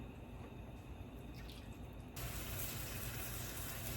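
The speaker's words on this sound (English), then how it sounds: "I'm going to take a little bit of the broth and put it in the pan." Broth pours into a hot pan to deglaze it for clam chowder, a soft liquid splash and gush that swells to a louder, steady wash of sizzle about halfway through, close and without talk.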